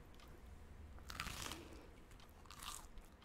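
Crunchy chewing of a bento meal in a convenience store game: two distinct crisp crunching bites a second or so apart, close and quiet, with no talk.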